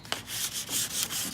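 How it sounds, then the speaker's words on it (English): Sandpaper rubbed by hand over the edges of a glazed wooden table, a close, gritty scratching in quick back-and-forth strokes with no voices. "We're just taking a little bit of sandpaper to the edges."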